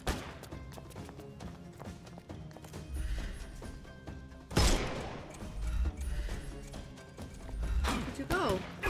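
Gunfire bursts in the Sherlock Holmes: Chapter One video game, with a heavy blast near the middle and sustained shooting clatter mixed with game sounds and a voice talking over it.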